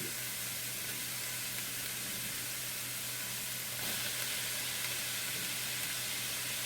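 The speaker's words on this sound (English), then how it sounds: "so that olive oil is nice and hot. First thing, let's get in some of these onions." Onions sizzle steadily in hot olive oil, a dense continuous frying hiss that stays loud and even throughout, swelling slightly near the end as more vegetables go into the pan, with no talking.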